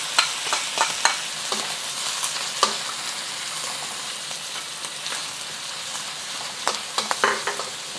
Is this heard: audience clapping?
no